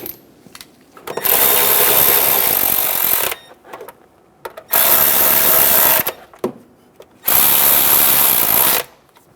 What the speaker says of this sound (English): Go around and snug down all of the cover bolts.